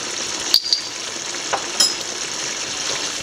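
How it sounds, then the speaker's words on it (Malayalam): Chicken and breadfruit curry is stirred in a pan over a steady sizzling hiss, with a few soft scraping knocks of the spoon and no talk. "നല്ലപോലെ എല്ലാം കൂടെ യോജിപ്പിക്കുക"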